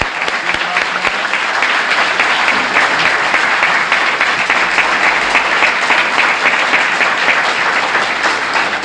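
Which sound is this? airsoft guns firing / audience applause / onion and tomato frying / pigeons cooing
audience applause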